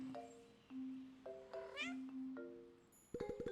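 Cartoonish video game cats from Cat Quest II meow repeatedly, with several separate tonal meows and a rising trill, then a burst of higher chirps at the end, clean and close.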